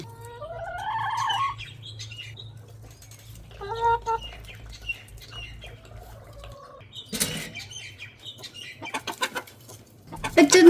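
Chickens cluck and chirp in short, scattered bursts close by, over a faint low hum, growing busier toward the end.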